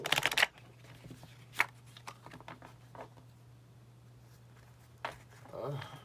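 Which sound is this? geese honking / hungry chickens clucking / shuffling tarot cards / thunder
shuffling tarot cards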